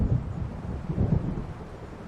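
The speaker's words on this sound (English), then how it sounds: "It seems there's a storm coming." Thunder rolls low and distant from an approaching storm in the video game Alan Wake Remastered, a soft rumbling swell that rises and fades over about two seconds with faint rain-like hiss, no voices.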